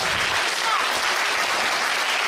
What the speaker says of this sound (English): she's telling the crowd to stop clapping, and they do not oblige her request